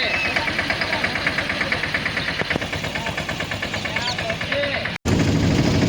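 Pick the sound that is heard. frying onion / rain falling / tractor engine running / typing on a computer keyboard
tractor engine running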